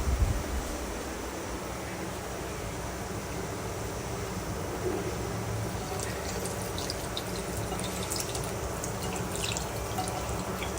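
Water runs steadily from a tap as a muddy object is washed under it. A faint continuous splash plays with scattered drips and no talk.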